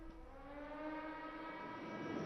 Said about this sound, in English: The sirens we could hear